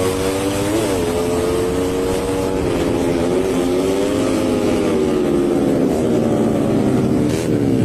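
Underbone motorcycles race, among them a Raider FI, Sniper 150s and RS 150s, in a steady, loud engine roar with rising and falling whines as the bikes rev and pass, with no pauses.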